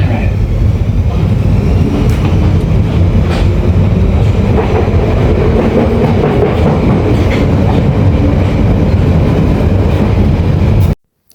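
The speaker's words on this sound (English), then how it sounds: "listen to the beautiful sound it makes when it leaves the station" A London Underground Piccadilly Line train pulls out of South Harrow station, its wheels clattering in a steady clickety-clack with a loud, close rumble that stops abruptly at the end.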